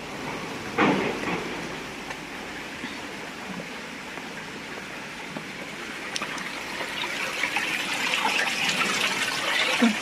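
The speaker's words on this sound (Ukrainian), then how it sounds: "струмочки." Small streams of water trickling through a city park, a soft, continuous flowing wash with a few brief bumps, growing slightly fuller toward the end.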